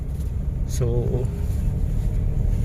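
A car drives along with a steady low engine and road rumble heard from inside, while someone talks briefly over it.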